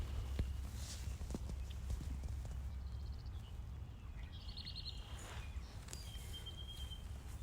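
Out in a quiet field on a horse farm, mares and foals make faint, scattered hoof clops, with distant birds chirping over a steady low outdoor rumble.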